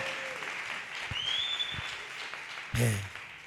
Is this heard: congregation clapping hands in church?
yes